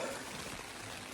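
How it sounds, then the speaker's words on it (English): Steady, soft rain patter on a tent with a dense hiss, close and even, no voices. "it is raining"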